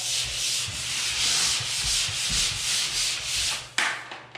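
A pole sander rubs over drywall screw spots in steady back-and-forth strokes, a close, even scratchy hiss that ends with a few light knocks.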